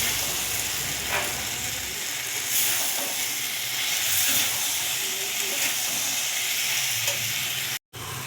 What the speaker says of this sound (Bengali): আলু মাংস মশলার সঙ্গে সব কষিয়ে নেব